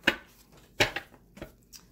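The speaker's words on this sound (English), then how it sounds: "One more shuffle." Tarot cards being shuffled close up, giving several sharp papery riffle bursts in an uneven rhythm, a few quick snaps with quiet gaps between them.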